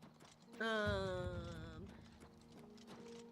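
Horse hooves in Oblivion Remastered clip-clop steadily at a walking pace nearby, with a brief horse whinny standing out over them.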